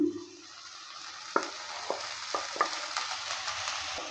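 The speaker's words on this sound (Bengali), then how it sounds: "ডিমটা দেওয়ার পরও নেড়েচেড়ে নিচ্ছে" Fried eggs are stirred in a pan of curry, a soft sizzle underneath with several distinct scraping clinks of the spoon against the pan, close by and without talk.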